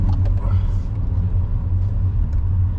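A car on a driving lesson accelerating as the learner presses the gas, a loud steady low engine rumble through the whole moment, with voices talking over it.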